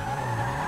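Tires screech in a GTA V video game race between a Fiat Palio and a VW Gol G5, a brief, steady, loud squeal with engine drone underneath.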